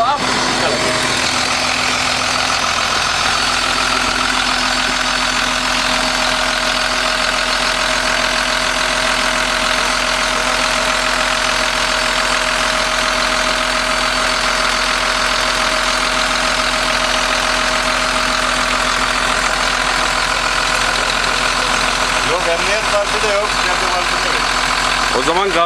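A KATO HD 1430 excavator's diesel engine idles loudly and steadily up close, with a constant rumbling drone and a faint mechanical whine throughout.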